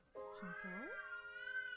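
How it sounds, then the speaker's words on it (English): A cat gives one drawn-out, rising meow and then a longer wavering yowl, close and clear, with no talking over it. "Stop! Stop meowing!"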